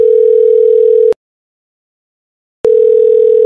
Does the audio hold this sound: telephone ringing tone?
yes